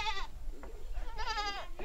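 A goat bleats twice, loud and near, each call a wavering nasal cry with a short gap between them, and faint background noise.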